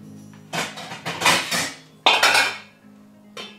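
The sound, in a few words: pot lids clattering while searching for the right lid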